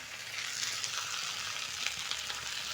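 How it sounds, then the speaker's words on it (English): A steady, soft sizzle hisses from bread toasting in a hot pan, continuous and even, with faint crackles and no voices. "I'm going to place my bread on the pan. You can hear the sizzle."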